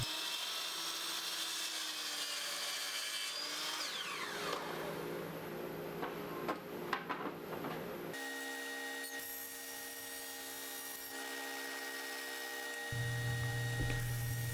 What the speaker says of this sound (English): Here I am cutting the 1x8 material for the top.